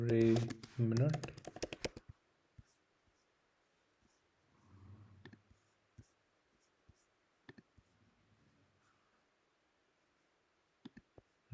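Sparse clicks and taps on a computer keyboard, faint and irregular, following a short burst of speech at the start.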